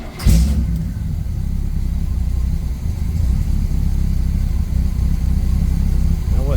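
Avanti car engine cranking briefly, then catching and settling into a steady, loud, rumbling idle that runs close and continuous for several seconds.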